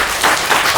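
Studio audience at a crossword game show applauding, a short continuous burst of many hands clapping with no talk.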